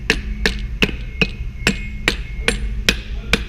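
About nine sharp, evenly spaced hammer taps ring out close and alone as a pump part of a Hennes Johnson mastic sprayer is knocked into place, with its packings fitted.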